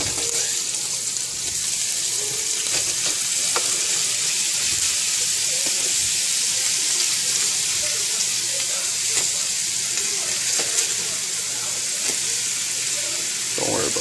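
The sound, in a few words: Salisbury steak patties sizzling in a frying pan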